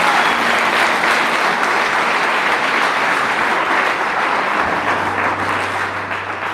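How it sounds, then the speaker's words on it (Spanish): Loud, sustained applause from a large church congregation, steady dense clapping throughout with a low hum appearing near the end. "Vamos a dar una fuerte aplauso al Señor."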